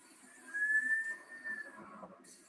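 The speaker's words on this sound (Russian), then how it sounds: "Такие насвистывающие звуки – это сканер." A book scanner gives off a thin, wavering whistle that rises and holds for about a second, then fades, over a low mechanical hum.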